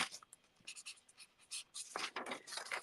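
Pen nib scratching across a handmade new baby card, faint close scritching strokes in short uneven bursts, quiet with no voices.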